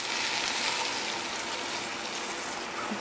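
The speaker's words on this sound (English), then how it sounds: "I'm going to add some water" Water pours from close by into a cooking pot of sprouted black bean chili with millet and callaloo, a steady, hissing gush that runs unbroken for a few seconds.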